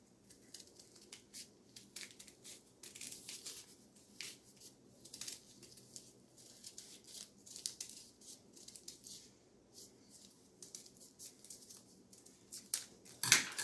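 Scissors snip through paper to cut out a simple fish shape, producing a quiet, steady run of small crisp cuts and faint paper rustles at close range, with no talking.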